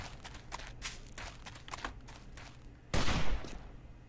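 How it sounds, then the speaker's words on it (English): Gunfire in the multiplayer video game War of the Walkers, heard as a string of rapid shots followed by a louder, denser burst of fire near the end. "Is that you shooting or no?"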